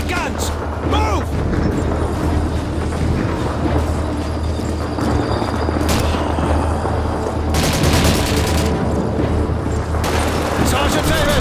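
A Call of Duty 2 battle rages with dense, continuous gunfire, machine-gun bursts and booming artillery blasts, loud and close, while voices shout beneath the din.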